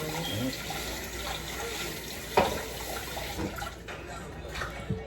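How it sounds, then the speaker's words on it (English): Tap water runs steadily into a sink while conch is cleaned under the stream, a continuous close wash with a few handling clunks and splashes, and a voice speaks over it. "my method is just running it underwater while pulling, and that seems to work fine"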